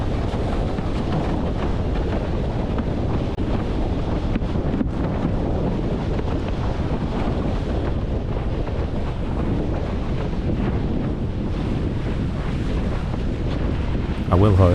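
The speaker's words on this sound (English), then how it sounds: "the wind is up though, this slightly faster stretch out to the north again" Steady, loud wind roar buffets the microphone while sailing a Dyno board on open water in cold conditions, with rushing water noise underneath throughout, alone without talk.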